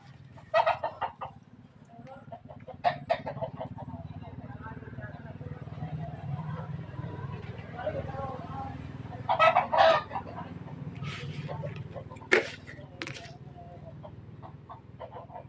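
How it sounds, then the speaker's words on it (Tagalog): Farmyard chickens cluck and squawk through a countryside feeding, with rooster-like calls and bursts of fowl noise standing out over a steady low background while a person talks in between. "Bigyan ko ng pagkain ng chicken."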